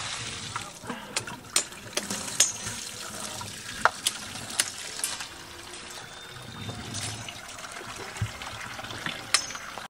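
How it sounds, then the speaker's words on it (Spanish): Water runs steadily from a tap to fill a container for washing meat, a continuous close trickle with intermittent clinks and splashes, under faint background activity. "Vamos a llenar este de agua."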